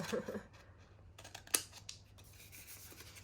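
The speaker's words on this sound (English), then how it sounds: "Snip, snip, don't cut your finger off, please." Scissors snip through pouch-making material with a few quiet, crisp cuts and soft rubbing, close but faint in a hushed room.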